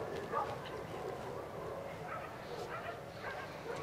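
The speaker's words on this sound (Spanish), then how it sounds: "Entre los ladridos de los perros he escuchado gritos." Faint dogs bark and yip in the background at a cemetery, with a few whimpering sounds, amid indistinct voices and general noise.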